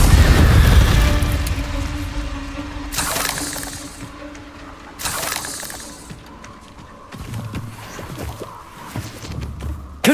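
Spell blasts from Confringo in the Hogwarts Legacy video game: a loud burst at the start, then several sharp explosive hits with crackling debris and rumbling tails, spaced a few seconds apart, with game ambience between them.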